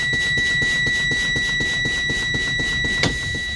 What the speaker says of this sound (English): My alarm came on at 75